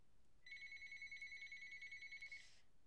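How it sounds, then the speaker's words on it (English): A telephone rings with a steady electronic trill for about two seconds, moderately loud and alone over a quiet room hiss. "Sorry, the phone just rang."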